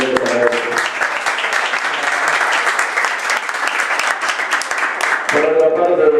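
Audience applause at a political education conference in Latin America: a dense, sustained burst of many hands clapping, loud and close, with a speaker's voice at the start and again as the clapping ends.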